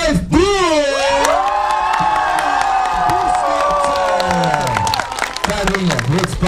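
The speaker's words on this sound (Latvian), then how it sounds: "ar vētrādiem aplausiem sagaidām Make Life Blue!" A lively crowd at a YouTuber meet-up cheers, whoops and applauds loudly and close by, with high shrieks and shouted voices rising over continuous clapping that tapers slightly near the end.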